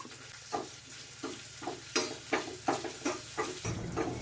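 Tempering for a cheru chembu (small taro) pulissery crackles and sizzles in a hot pan, with repeated stirring strokes scraping through a steady frying hiss, heard close and alone.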